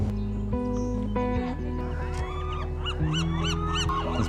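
Birds call on Alcatraz Island, a rocky island in San Francisco Bay: a loud, repeated series of harsh honking cries, one after another, near and overlapping, with a bird chorus behind.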